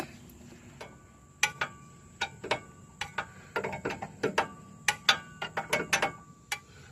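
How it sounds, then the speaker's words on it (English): A ratchet wrench tightens the upper control arm ball joint on a 2002 GMC Sierra, giving close, crisp clicks in quick irregular runs, faint at first and growing busier. "now we need to tighten up our ball joint here."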